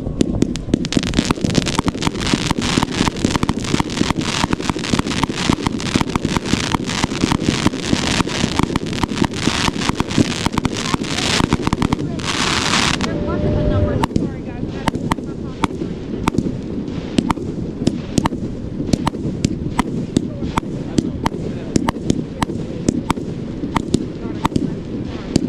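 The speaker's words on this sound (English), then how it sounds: "First people to see these fireworks." Bada Boom 1.4G Pro Line consumer fireworks burst in a rapid, continuous barrage of loud crackling pops and booms, with a short pause midway before the volley resumes, and people talk briefly.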